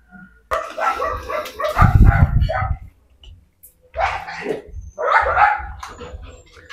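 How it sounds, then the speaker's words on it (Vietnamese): Pet dogs barking and yipping outdoors in the evening, a few close, loud bursts in short clusters with a pause between, alongside a person speaking. "nó sủa nó đó"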